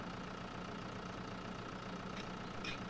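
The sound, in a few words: tractor engine idling in video game Farming Simulator 2013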